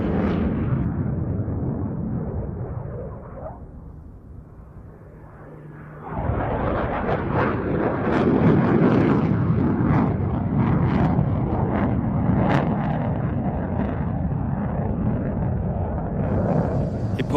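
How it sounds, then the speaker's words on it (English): An F/A-18 Hornet jet flying with afterburner at an air show, a deep, loud roar that fades briefly, then surges back as a heavy, crackling rumble and stays loud. "I'm sure you feel the massive power of this aircraft. Almost all the time he's flying with afterburner."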